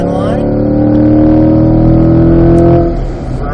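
A Corvette revs hard at full throttle on a racing circuit, its loud engine note rising steadily through the gears before easing off near the end, with a voice talking over it.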